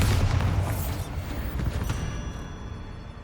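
A Bombarda blasting spell goes off in the wizarding game Hogwarts Legacy: a loud, deep boom at the start with a rumbling tail that fades away over about three seconds, and no talking.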